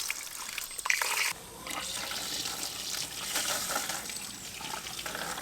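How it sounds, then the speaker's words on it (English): Water trickles from a tap into a container on a farm during a week of freezing, below-zero weather, a steady soft running flow lasting throughout with a brief louder splash early on. "This is a trickle here."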